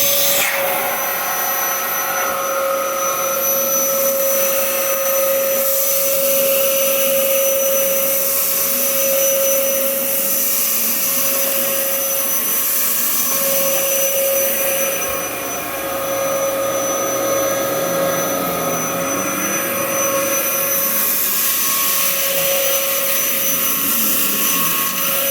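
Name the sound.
Dyson DC07 upright vacuum cleaner running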